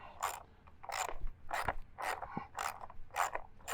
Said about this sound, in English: small wrench for this, 8mm socket with an extension